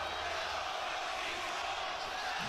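Raucous crowd at a wrestling event in Atlanta, a dense, steady roar of many voices filling the arena, loud and continuous without clear breaks.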